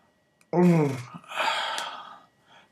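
A human voice imitating a Wookiee growl like Chewbacca, one loud raspy throaty vocal burst followed by a breathier rising groan, close and alone with brief breaths around it.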